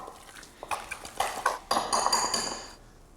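A spoon scrapes and clinks against a pot while a classic hotel-restaurant dish is stirred, giving a run of close, bright metallic taps and scrapes for a few seconds over a quiet room.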